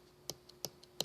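Three crisp clicking taps from a clicking pen, evenly spaced about a third of a second apart, close and fairly quiet against a faint steady hum.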